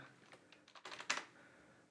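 A computer keyboard is typed on in a short burst of several quick, close keystrokes, clustered clicks rising to a sharper tap near the end, with no talking.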